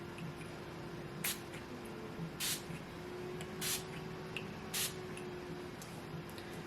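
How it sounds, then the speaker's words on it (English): Urban Decay All Nighter setting spray misted onto a face in four short evenly spaced hissing spritzes over a quiet, humming room. "It's just the standard All Nighter setting spray."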